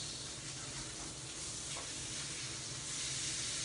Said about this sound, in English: Well, I'm hearing that sizzle.